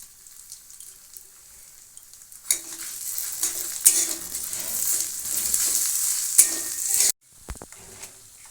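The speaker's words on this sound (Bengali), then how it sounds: "মুগ ডালটা আমি বেশিক্ষণ ভাজবো না দু একবার নেড়ে নেব" Mung dal frying in a pan and being stirred, a quiet start building into a continuous close sizzle with scraping stir strokes, ending with a sudden cut and a few faint knocks.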